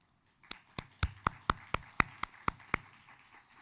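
At a commencement ceremony, a round of applause comes as a sparse, evenly paced run of about a dozen distinct claps, fairly faint, like a single person or small group clapping rhythmically.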